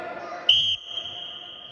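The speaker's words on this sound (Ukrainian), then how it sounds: "По свисточку підожди, Ваня." A referee's whistle at a youth football match, one short shrill blast followed by a longer steady tone, heard fairly close amid quiet outdoor background.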